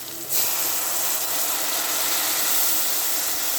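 White vinegar, a quarter cup, hits a hot pan with fried garlic for Egyptian koshari, giving a steady loud hiss that begins abruptly and continues unbroken for several seconds with no talking.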